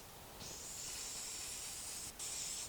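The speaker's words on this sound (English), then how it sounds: "We're going to spray it with some non-stick cooking spray." Non-stick cooking spray with flour in it hisses out of a can into a baking dish for cake, two close bursts of steady spray with a brief pause between them, otherwise quiet.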